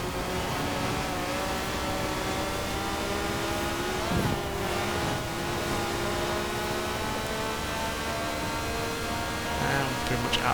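A Peugeot race car engine in Forza Horizon 4 screams at high revs past 9,000 RPM, a steady, loud, sustained whine with layered harmonic tones and a brief dip mid-run, with no talk over it.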